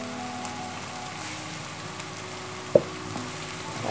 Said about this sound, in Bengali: গরম মশলাটা সহ পেঁয়াজটা ভেজে নিতে হবে।